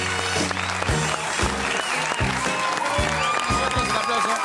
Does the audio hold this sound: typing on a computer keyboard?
no